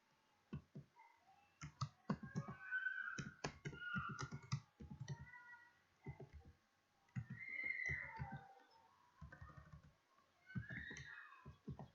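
Close, quiet typing on a laptop keyboard comes in irregular bursts of sharp key clicks separated by short pauses.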